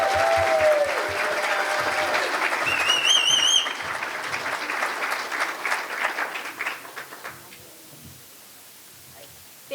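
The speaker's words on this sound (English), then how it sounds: "We can give everyone a group round of applause." A crowd at a 2024 Ethnic Studies commencement ceremony gives a group round of applause, a dense sustained clapping with faint cheering whistles early on, gradually thinning into scattered claps and fading to near quiet.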